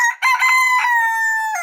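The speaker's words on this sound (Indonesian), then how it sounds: "seru guys nih, suara ayam nih. Ini nih suara ayam." A rooster crowing sound effect played from a computer, one loud, clear cock-a-doodle-doo with a sharp start and a long held final note, heard alone.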